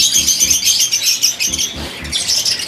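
Birds kept in a small mini aviary chirp and tweet in quick, overlapping bursts, close and lively, with a few rougher squawks mixed among the bright calls.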